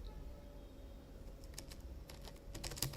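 Someone types a short prompt on a computer keyboard, a quick run of light key clicks in a quiet room that starts midway and grows busier toward the end, with no voices.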